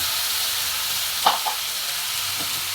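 Meat for igado sizzles and fries in a hot pan, a steady close hiss with a brief clatter of stirring partway through.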